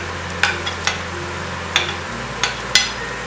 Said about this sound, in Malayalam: സ്പ്ലിറ്റ് ചെയ്ത പച്ചമുളക് ഇതെല്ലാം കൂടെ ഇട്ടൊന്ന് വഴറ്റുക.